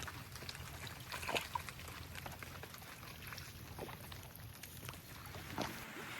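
A small wooden boat is paddled across a rain-fed wetland during light drizzle, with soft irregular splashes and water trickling against the hull over a quiet outdoor background.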